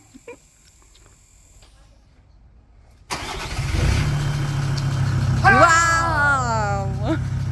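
A car engine restarts abruptly after quiet, then idles and revs steadily, close by, with a voice talking over it.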